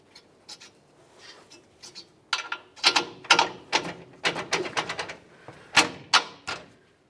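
Metallic ratcheting and wrench clicks ring out as the lower strut mounting nut is tightened on a 2004-2015 Nissan Titan's front left lower control arm, a series of close, irregular bursts with short pauses, no talking.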